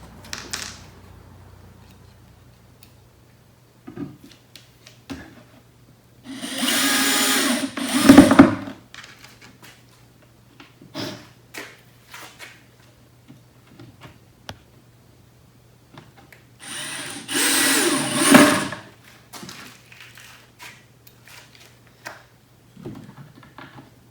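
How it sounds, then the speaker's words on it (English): A power drill drives screws into a wooden bat house. Two short, loud bursts are separated by quiet stretches of light handling knocks and clatter. "the screws will be able to find the pre-drilled holes"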